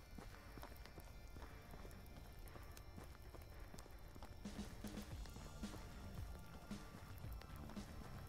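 Footsteps of the player's own character walking in the medieval survival game Medieval Dynasty, a steady soft rhythmic patter that sounds almost like hoofbeats, close and moderately quiet over a dense game ambience.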